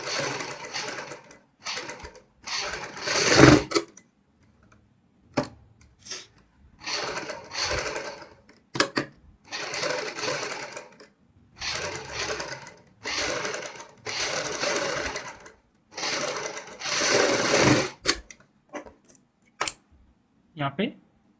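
A sewing machine stitching blouse piping along buckram, heard as repeated close bursts of fast mechanical stitching separated by short pauses, with faint handling noises in between.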